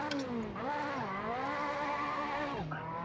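Ferrari 458 Italia's naturally aspirated V8, simulated as a stage 3 tune in Assetto Corsa on a Japanese mountain road, wails steadily through the revs, dipping briefly as it shifts and then climbing again, loud and continuous with no talk.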